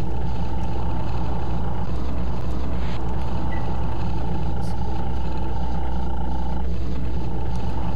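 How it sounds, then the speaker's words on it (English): A steady, droning vehicle engine hum in the video game Battlezone, with a constant low rumble and a sustained tone, loud and unbroken throughout. "Engine sounds are a little, interesting on this one."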